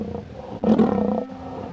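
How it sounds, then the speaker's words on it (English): A lion's roar from the MS-DOS children's game Kids Zoo: A Baby Animal Adventure, a short, loud, rough growling burst of under two seconds with a grunting tail, heard alone. "A lion goes"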